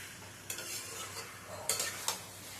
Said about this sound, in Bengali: এঁচড়টাও দিয়ে দিচ্ছি এর মধ্যে সমস্ত উপকরণ দিয়ে মশলার সাথে ভালো করে আবারও কিছুক্ষণ ধরে কষিয়ে নেব